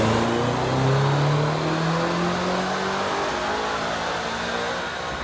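A tuned Land Rover Defender Octa engine on a chassis dyno, held at high steady revs with a loud, sustained drone and a slowly rising and falling pitch, alone without any talk.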